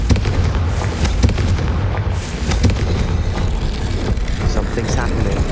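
Confringo blasting spell explosions in the video game Hogwarts Legacy, a dense run of booming, crackling blasts filling the scene at loud, steady intensity with rumbling low end.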